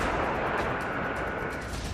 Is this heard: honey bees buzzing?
no